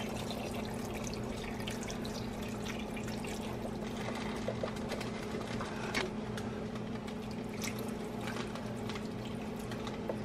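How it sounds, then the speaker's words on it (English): Water is poured into a pot of Irish stew holding potatoes and other vegetables, giving a steady, close splashing fill over a low constant hum that lasts throughout. "If your liquid doesn't quite cover your veggies, go ahead and add more water until it does."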